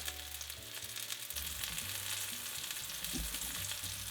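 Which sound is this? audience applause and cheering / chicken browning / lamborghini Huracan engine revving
chicken browning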